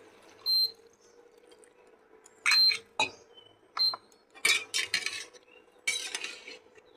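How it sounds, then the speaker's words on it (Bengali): A spoon stirs mixed vegetable bhaji in a pan after water is added, giving several separate bursts of scraping and clinking against the metal, spaced by quiet gaps over a low background hum, with no talking. "ভালো করে মিক্স করে দেবো।"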